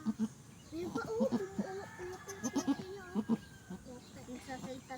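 A goat bleats repeatedly in short, nasal cries while giving birth, close and fairly loud, spaced irregularly across the span, with people talking around it.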